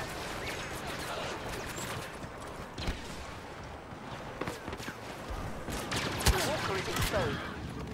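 Rapid blaster gunfire in Star Wars Battlefront comes as clustered crackling shots over a busy battlefield din, with sharper, louder bursts toward the end.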